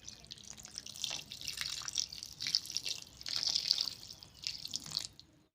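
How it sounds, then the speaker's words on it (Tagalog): Water is poured into a pan holding fish steak with calamansi and oyster sauce, giving a trickling, splashing flow that swells and eases in several bursts, close and fairly quiet with no speech. "lagyan natin ng kaunting tubig"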